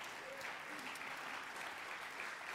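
A church congregation at a Sunday service applauds to acclaim Jesus, with steady, dense clapping from a large crowd lasting the whole moment at moderate, slightly distant volume.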